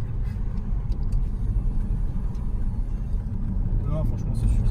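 Car engine drone while driving through the Bois de Boulogne around 2000 rpm, a heavy low rumble that stays constant and close for the whole stretch, with a brief faint higher whine near the end.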